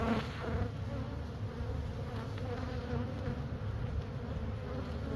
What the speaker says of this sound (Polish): Pszczoły o tej porze nie będą nigdy za szczęśliwe.